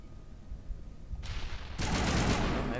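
Bursts of gunfire in a Mass Effect firefight against Krogans, a short shot then dense sustained automatic fire filling the last second, loud and close.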